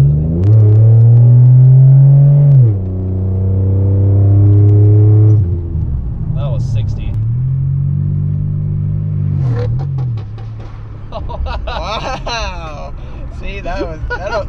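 Pontiac Grand Prix with a 3800 V6 engine revving in long, loud, deep sweeps that rise and fall, then driving off as the rumble continues, with people talking over it.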